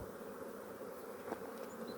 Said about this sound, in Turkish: Burada müthiş bir erkek arı yoğunluğu var.